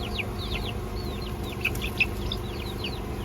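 Small backyard flock of eight chickens clucking and chirping through a steady low hum, with repeated short calls close by during hot weather.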